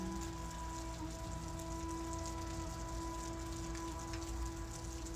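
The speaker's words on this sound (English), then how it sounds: "We are having rain in Miami right now" Rain falls in Miami as a constant hiss of drops on surfaces, steady and moderately faint, with a low hum running beneath it.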